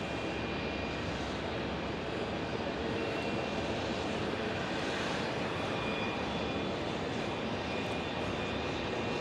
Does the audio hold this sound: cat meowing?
no